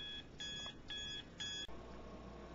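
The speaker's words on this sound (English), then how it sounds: "the alarm's set for 6:30 in the morning so I can get up." A morning alarm clock goes off with three repeated electronic beep bursts in an even rhythm, crisp and moderately loud over a steady background hiss, ending abruptly.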